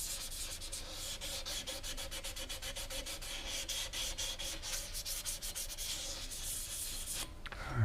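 Continuous abrasive rasping of hand sanding across an old brass door handle, worn with gouge marks, steady rhythmic strokes close up and alone, ending with a brief handling knock.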